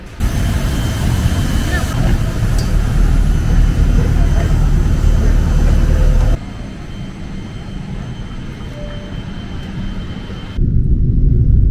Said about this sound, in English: Now the plane is landing